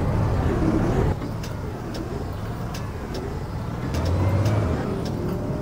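A LiAZ 5292.22 city bus in the OMSI 2 simulator drives on with a steady, close engine and road drone throughout, the level shifting a little partway through.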